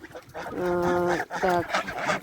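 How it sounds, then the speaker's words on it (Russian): Geese on a poultry yard honk loudly and close in two long overlapping bursts, with a brief spoken word at the start. "25 гусей здесь."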